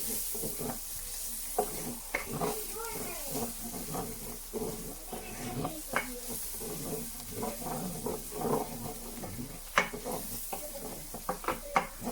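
Chana masala with coriander powder and fresh coriander frying in a pan, a steady close sizzle under repeated scraping spoon strokes and occasional clinks against the metal.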